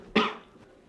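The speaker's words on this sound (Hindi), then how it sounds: "थोड़ा सा खांसी मुझे हो चुका है।" A single sharp cough from a man in the middle of spoken lecturing, close and fairly loud, then fading into quiet room noise.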